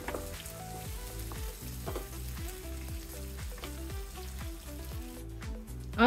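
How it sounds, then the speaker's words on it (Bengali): Onions and three sliced potatoes fry in a pan for a Bengali fish curry with spinach, a soft steady sizzle with repeated rhythmic stirring scrapes, heard alone without talk. "আলু দিয়ে আমি আরো 2 মিনিটের মতো ভেজে নেব।"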